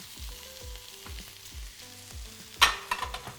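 Onions and peppers fry in a pan for a savoury pancake filling, a quiet steady sizzle under soft rhythmic stirring knocks, with a brighter crackle flaring up near the end.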